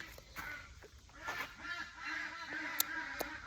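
Ducks quack and honk in short bursts at a moderate distance, several calls overlapping over a quiet outdoor background.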